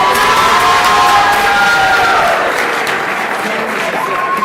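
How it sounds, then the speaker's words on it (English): Crowd at a university athletics banquet breaking into applause and cheering for an honoree, loud sustained clapping mixed with whoops and shouts, tapering slightly toward the end. "Give Mauricio a round of applause."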